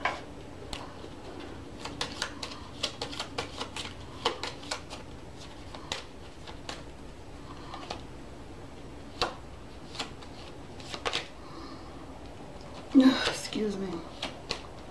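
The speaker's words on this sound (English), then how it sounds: "let's pull some more cards" Tarot cards are shuffled and pulled from a deck in a string of soft, close snaps and taps, irregular but quick, while a quiet voice talks over them.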